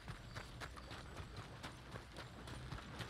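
Faint, steady hoofbeats clip-clop in a quick rhythm, like a horse trotting at a distance in a video game, with no voices.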